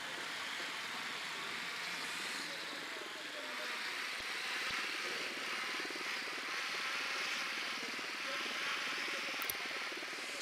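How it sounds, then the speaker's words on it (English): A surveillance drone flies in the tactical shooter Ghost Recon Wildlands, giving a steady whirring rotor drone with a broad hiss. It hums on at an even level, close and constant, with a few faint clicks. "Drone is airborne."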